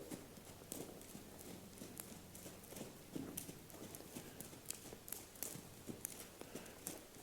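A horse named Storm shifts and walks on its own, hooves clip-clopping in an irregular, fairly close rhythm over a steady low background hum, with no one talking.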